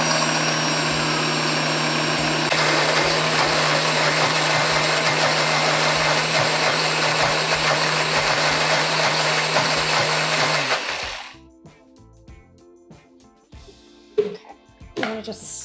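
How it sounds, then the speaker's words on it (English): A blender purees garlic for a 1972-style steak sauce, a loud steady motor whine running for about eleven seconds before cutting off, followed by quieter kitchen clatter and scraping. "So we're gonna actually just put this in the blender here and we're gonna puree"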